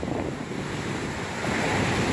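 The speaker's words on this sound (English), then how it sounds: "the water is rushing pretty fast" Water rushes fast through a dam beneath a bridge at Lockport, Manitoba, a dense, continuous roar with heavy wind buffeting the microphone, steady and loud, no voices.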